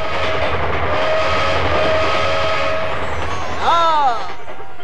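Cartoon train rolling along with a steady chugging rumble, then a loud wavering whistle blast near the end, heard alongside dialogue.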